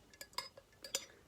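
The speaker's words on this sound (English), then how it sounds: "Just give it a bit of a jiggle and a stir." A metal spoon jiggles and stirs in a cup of tea, making a handful of soft, close clinks against the ceramic in an irregular rhythm over a quiet background.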